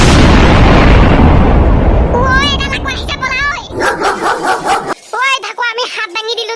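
A cartoon dog barks in sharp, repeated yelps after a loud blast-like rumble, with voices talking over the barking.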